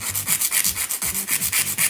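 A hand file rasps back and forth across an acrylic nail shaped into a coffin tip, a rapid, even run of close, loud scratchy strokes with no talking.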